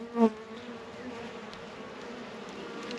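Honeybees buzz at an opened backyard hive, a steady close droning hum that is continuous throughout, with one louder bee passing near at the very start.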